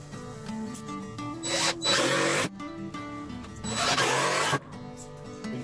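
A power drill drives 3-inch screws diagonally into wood, with two loud whirring bursts rising over a quieter, uneven mechanical background.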